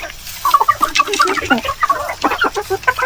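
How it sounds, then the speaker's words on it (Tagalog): Heritage chickens on a farm cluck in a busy, overlapping chatter of short clucks and squawks, fairly close and continuous, with no voices. "HERITAGE CHICKEN"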